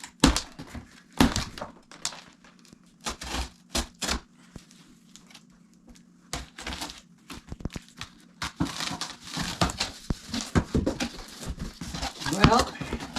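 A shipped cardboard box packed box-in-box is cut open and unpacked in an off-grid cabin: irregular scraping, crinkling and crumpling bursts of cardboard and packing material, close by, with someone talking in between.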